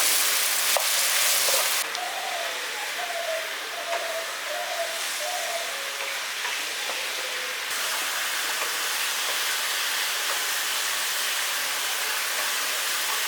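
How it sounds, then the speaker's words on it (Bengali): Salt, turmeric and Kashmiri chilli powder sauté in hot oil, giving a steady, close, hissing sizzle that runs throughout, with faint light tones and a brief shift in texture partway through. "এখানে লবণ, হলুদ আর লঙ্কার গুঁড়ো দিয়ে এবার মশলাটাকে একটু কষিয়ে নিচ্ছি"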